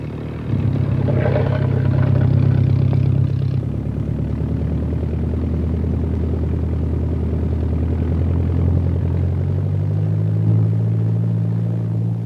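A de Havilland Chipmunk light aircraft's piston engine runs steadily as it taxis, a loud, constant droning hum with a deep throb that shifts slightly in pitch, with no talking over it.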